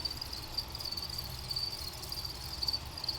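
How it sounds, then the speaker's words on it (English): Crickets chirp in a bait shack, a steady high trill running continuously under a faint low hum, with no voices. "Got some crickets."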